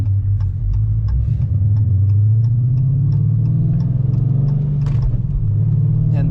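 A car exhaust with BBK long tube headers, Spintech mufflers and 3-inch piping idles and revs with a steady deep low rumble, rising slightly and settling, close and continuous, with faint ticking on top.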